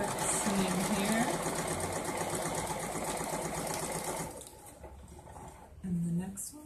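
A sewing machine runs a quarter-inch quilt seam for a four-patch block, a steady close mechanical whir for about four seconds before stopping, with a short burst of stitching near the end.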